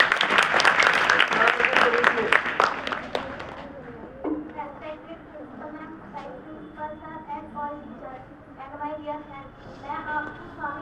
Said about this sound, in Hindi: ताली तो बजाओ बेटा